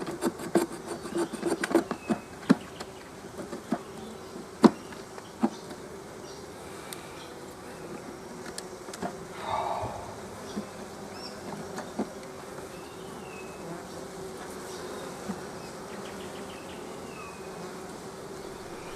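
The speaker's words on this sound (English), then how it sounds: "There's a few bees coming in and out, but that's about it." A few bees buzz around a hive entrance during blue gum flowering, a soft, faint drone with sparse clicks and light taps, steady and quiet with no talk.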